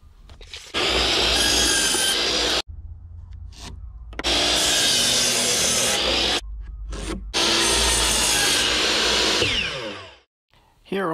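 Power saw cutting through the wooden pieces of a dismantled old swing set, three long loud bursts of buzzing, rasping cutting separated by brief pauses, close and alone without talk.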